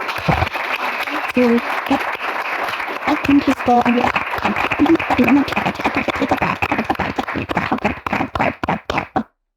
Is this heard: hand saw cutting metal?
no